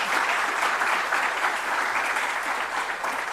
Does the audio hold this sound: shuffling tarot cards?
no